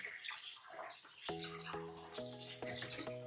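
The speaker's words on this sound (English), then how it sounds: "I turn on the water and I just rinse everything in a sieve" Running tap water splashes into a sieve as beef is rinsed, a close, continuous hiss that turns into a ringing, pitched gurgle partway through as the flow hits the mesh and meat.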